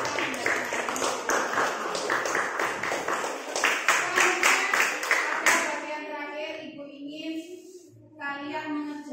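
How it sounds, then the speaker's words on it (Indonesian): A classroom breaks into dense, lively applause for several seconds, many hands clapping at once, before it fades and voices take over. "Tepuk tangan untuk kita semua"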